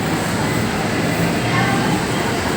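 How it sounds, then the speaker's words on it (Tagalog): An MRT train at a station rumbles steadily with a loud, continuous broadband roar and low hum, no distinct clicks, sustained over a couple of seconds. "Yun yung train natin going to Ayala Station."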